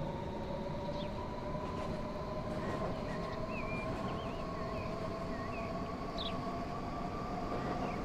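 A Metropolitan Line train in Transport Fever 2 runs steadily on its tracks through a cutting on the climb into the Chilterns, a continuous rumble with sustained tonal whine and faint squeals, moderately loud and unbroken, with no talk.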